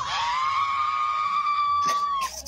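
A single sustained, high-pitched scream holds steady for about two seconds, loud and close, then breaks off into brief shouting and commotion as a man jumps onto a fire truck.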